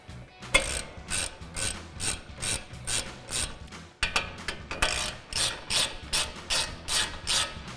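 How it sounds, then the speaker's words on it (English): Hand ratchet tightening brake caliper bolts on a 2019-2024 Chevrolet Silverado 1500 during a brake rotor and pad job, a steady run of close, crisp clicking bursts repeating in an even rhythm with a brief pause midway. "just grab your ratchet and tighten them down"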